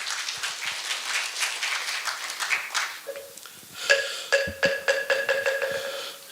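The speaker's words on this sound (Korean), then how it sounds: "여러분 큰 박수로 맞이해 주시기 바랍니다" Clapping from the audience at a Korean Buddhist media culture award ceremony, dense at first, then thinning out as a sustained musical tone and rhythmic chimes rise underneath and carry on to the end.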